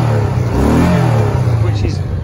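A Honda PC800 touring motorcycle engine with about 100,000 miles revs up close and loud, its low rumble rising and then easing back, with some overlapping talk.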